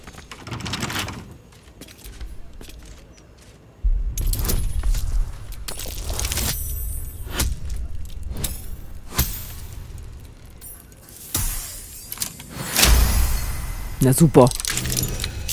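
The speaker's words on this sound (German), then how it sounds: "Ich habe euer Schloss gerade geknackt." A lock being picked in Baldur's Gate III, with metallic clicks and scraping rattles repeating against background game ambience and someone talking in German.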